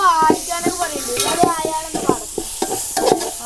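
Chopped tomatoes tossed into a hot pan of sizzling masala and stirred with a spoon, steady frying hiss broken by repeated scraping strokes, close and loud.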